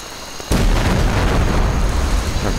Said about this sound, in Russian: Так, гранаты. Взрываем и вторую зенитку.